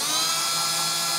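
A power drill drives a self-tapping screw into a metal burn barrel, whining steadily and loudly through the whole brief moment with no voices.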